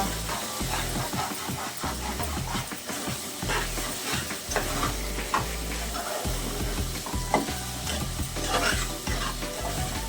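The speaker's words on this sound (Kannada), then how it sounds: "ಟೊಮೆಟೊ ಅದೆಲ್ಲ ಫ್ರೈ ಆಗುತ್ತೆ" Tomato with salt, chilli powder and turmeric frying in a pan for garlic bath, a loud continuous sizzle broken by frequent scraping stirs of the spoon, close up and without talking.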